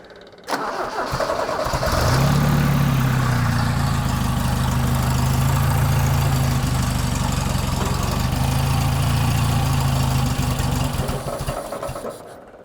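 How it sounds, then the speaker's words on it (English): A Toyota RA28 Celica fastback engine cranks and catches on full choke, then settles into a loud, steady idle with a slight rise early on, before cutting off near the end. "That's fully choked."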